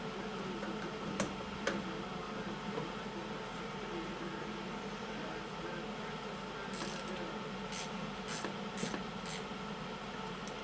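Ratchet wrench loosening a bolt on the starter of a Toro 524 snowblower: quick runs of faint clicking pawl ticks, scattered early then bunched near the end, over a steady background hum.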